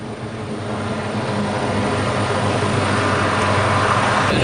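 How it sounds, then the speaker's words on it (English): A helicopter flying in to land nearby gives a loud, steady rotor and engine roar that holds and grows slightly stronger throughout, with no talk over it. "it was really loud with that helicopter"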